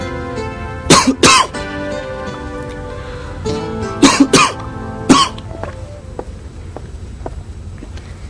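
Two clusters of loud, close coughs from a bad cold, then a single cough, over a steady background hum.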